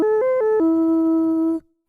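Boss RC-505 MKII auto riff effect with looping switched off plays a short synth riff, a few quick stepped notes settling into one held tone that cuts off after about a second and a half, then silence.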